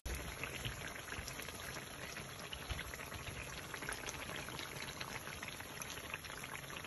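Froufrous fry in hot oil, giving a steady, dense sizzling and bubbling hiss that stays even throughout without pause and with no voices.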